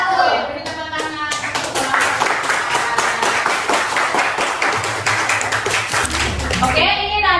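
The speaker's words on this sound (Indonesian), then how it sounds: "Beri tepuk tangan." A classroom audience claps steadily after a presentation at a teacher certification performance test at UIN Ar-Raniry in Banda Aceh. The clapping is dense and sustained throughout, with brief voices at the start and end.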